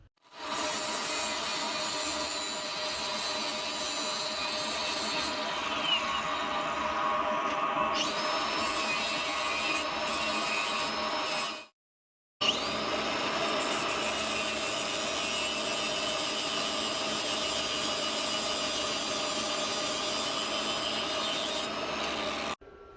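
A flap wheel made for steel grinds a wooden handle for a Caterpillar pony motor starting rope, a steady abrasive whir that runs on continuously, stops briefly, then resumes just as steadily.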